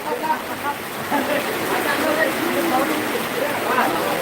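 Heavy rain pouring down as a constant broad hiss outdoors, steady and close, with people talking over it.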